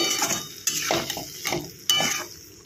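Cabbage cooked with nut and poppy-seed paste scooped from a pan onto a serving plate: a few quick metal scrapes and clinks of a spoon against cookware, close and fairly quiet, with no voices.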